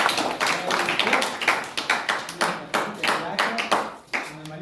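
Rhythmic group clapping at a special-school thanksgiving mass, loud, close, evenly paced hand claps that stop abruptly before a voice resumes.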